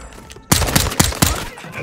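Gunfire in Call of Duty: Modern Warfare II, a rapid burst of about four loud, sharp shots evenly spaced after a brief quiet lead-in, close and punchy with a short ringing tail.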